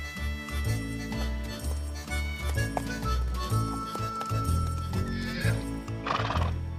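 A cartoon horse whinnies amid clip-clopping hooves and a busy, full music-like backdrop, steady and fairly loud throughout.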